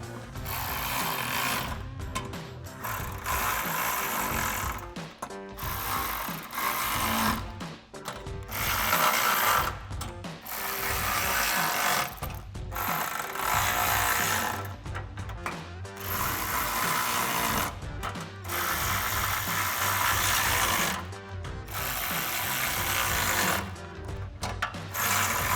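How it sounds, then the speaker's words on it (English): Ratcheting Allen socket and wrench tightening bolts on a modular steel front bumper for a 2019-2023 RAM 1500, heard as repeated bursts of close, loud ratchet clicks with short pauses between strokes and no talking. "we can take a 4 millimeter Allen socket and a 10 millimeter wrench to tighten these down."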